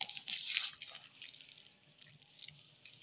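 Soft, wet squishing and dripping as water is added bit by bit and stirred into bottle gourd pakora batter, quiet and close with no talking.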